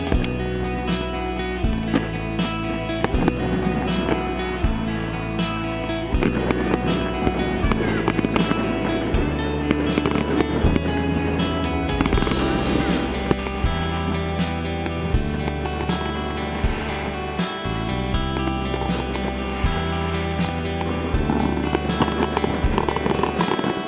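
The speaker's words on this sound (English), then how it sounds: "that's the end of the fireworks demonstration." Fireworks demonstration seen while travelling, a dense, unbroken barrage of booms and crackles rolling on loudly for the whole stretch.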